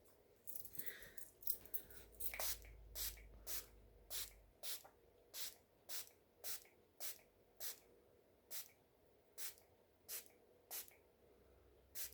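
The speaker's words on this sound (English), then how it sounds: "now I have to spray my entire face with setting spray" Setting spray hisses onto a face in about fifteen quick, evenly spaced bursts from a pump bottle, close and distinct in a quiet room with a few faint handling sounds at the start.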